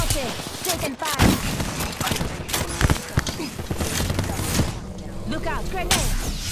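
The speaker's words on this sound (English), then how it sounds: "I'm spotted. Taking fire." Rapid gunfire from an Apex Legends match, bursts of shots and thumps crowding together at close range with a player's voice talking over the fight.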